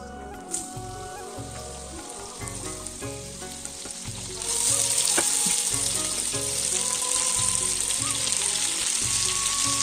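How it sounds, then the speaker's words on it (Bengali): Cumin seeds and dried chillies sizzle in hot oil in a wok, a dense crackling fry that grows louder and stays steady through the second half. "এখানে তেল দিয়েছি এর মধ্যে জিরে শুকনো লঙ্কা ফোড়ন দিই"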